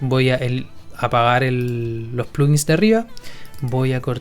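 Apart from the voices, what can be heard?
No distinct noise like a dog, phone or traffic.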